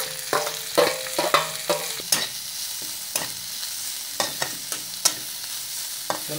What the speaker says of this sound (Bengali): পেঁয়াজ মরিচ দিয়ে দিচ্ছি,